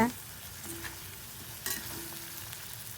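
Quiet stirring and soft scraping of fried taro root in masala in a pan, with a gentle sizzle underneath and a faint tonal hum running through.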